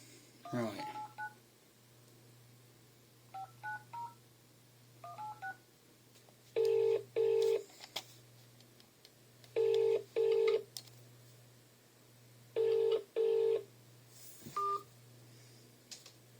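A landline telephone being dialed: several quick touch-tone beeps, then a steady hum with four paired ring tones at regular intervals, ending with a click, no talking.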